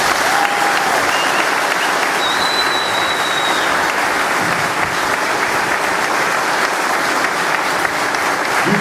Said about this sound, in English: I would like everyone here to give Chief Rick Kepler a round of applause.